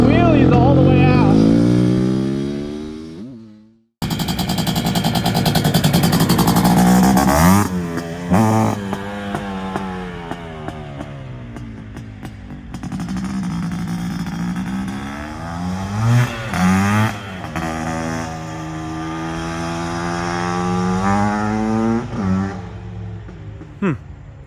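A Suzuki LT500R Quadzilla two-stroke ATV screams loudly as it is ridden with jetting adjustments, revving up and down in rising and falling sweeps. The sound cuts out sharply once, then returns through more throttle blips and long pulls, with occasional voices.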